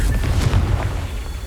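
A Confringo fire spell bursts in Hogwarts Legacy, a loud, close booming blast that rumbles for about a second and a half.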